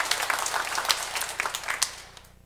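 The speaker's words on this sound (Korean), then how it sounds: "수고해주신 우리 형제 자매님들을 위해서 박수 한번 보내주시면 고맙겠습니다." A church congregation applauds together in a Catholic parish during Sunday Mass, a steady wash of dense clapping from many hands that swells and then fades out by the end.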